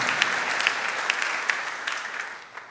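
A church congregation at an evening revival conference applauds loudly, with dense steady clapping and a few sharper claps that fade slightly toward the end, and no voices standing out.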